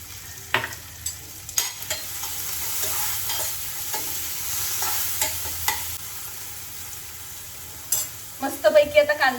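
Onion and tomato frying with curry leaves and salt in a pan for a sponge dosa breakfast, a steady soft sizzle broken by repeated scraping stirs, ending in a louder clattering flurry of spoon strokes near the pan.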